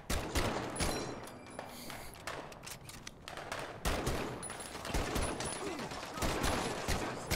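Rapid gunfire bursts from a World War II shooter, Medal of Honor: Above and Beyond, with a machine gunner firing, loud repeated cracks and rattles layered close together over the full stretch.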